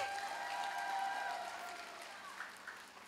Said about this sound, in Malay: saya nak dengarkan tepukan yang kuat sikit untuk diri anda sendiri